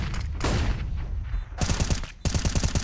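Rapid bursts of rifle gunfire in a competitive Counter-Strike match on the map Ancient, with loud cracking shots in quick clusters, a short pause, then another sharp volley near the end.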